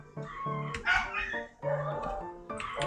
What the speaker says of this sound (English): The dogs in my neighborhoods are going...